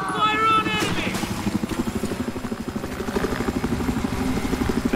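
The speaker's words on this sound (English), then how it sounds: "Now that chopper's on the roof, it's not going away." Helicopter in the game Battlefield 4 thumps with a steady rapid rotor chop close by, loud and continuous, with gunfire-like bursts and game sounds around it and voices talking over the action.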